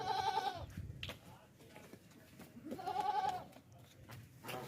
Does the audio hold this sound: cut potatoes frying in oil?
no